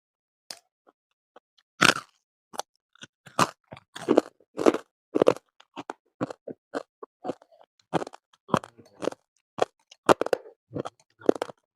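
Crisp lettuce salad being chewed close up, a long run of sharp, irregular crunchy bites and munches with short pauses between them and no talking.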